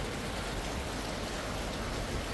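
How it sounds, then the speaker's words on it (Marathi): Steady monsoon rain falls outside a house, a constant, even hiss of drops with no pauses or voices. "बघा मस्त असं पाऊस चालू आहे"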